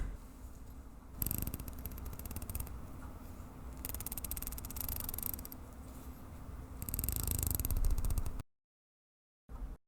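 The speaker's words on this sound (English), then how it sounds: "the bezel has a very clicky and positive actuation feel" The rotating bezel of a Coefficient prototype watch turns in three runs of rapid, crisp ratcheting clicks. It is close and quiet, recorded in a booth with no speech.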